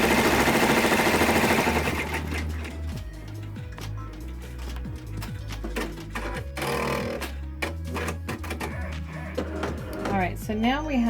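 An embroidery sewing machine stitching an outline on an in-the-hoop zipper pouch, a steady rapid mechanical chatter that runs throughout at close range, with a person talking over it.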